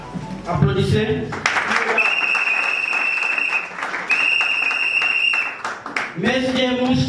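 A crowd at an MLC political party gathering applauds loudly, with long shrill horn-like tones blaring over the clapping and a voice talking at the start and end.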